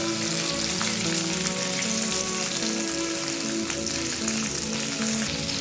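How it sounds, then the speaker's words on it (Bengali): Chopped garlic and onion frying in a pan give a steady, close sizzle that runs unbroken throughout, with tuneful background music beneath it. "রসুনটাকে একটু নেড়ে দিলাম, এর মধ্যে দিয়ে দিলাম পেঁয়াজটা"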